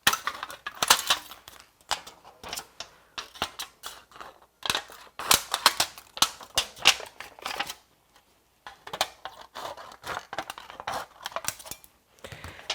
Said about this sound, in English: I can take my scissors and trim this to where it's a little straighter without the jagged edges